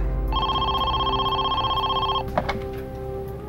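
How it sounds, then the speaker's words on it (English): A telephone rings with a steady electronic trill for about two seconds, loud and close, then stops and is followed by a brief clunk like the handset being picked up. "the phone rang again"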